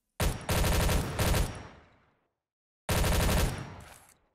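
Turrets firing in the video game Assassin's Unleashed: two loud, close bursts of rapid automatic gunfire, the first about two seconds long and the second shorter, separated by silence, with no talk.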